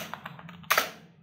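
Brief close typing on a computer keyboard, a handful of light key taps followed by a louder quick cluster of strokes, with no talking.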